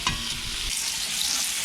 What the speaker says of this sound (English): Gonna brown up that stew meat.